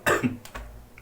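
A person with a cold gives a harsh, close cough followed by a few rough throat-clearing bursts, loud at first and fading, with no talking.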